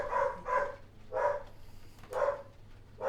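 A dog barks in four or five loud, evenly spaced bursts about every half second to second, close by, with a faint steady hum underneath.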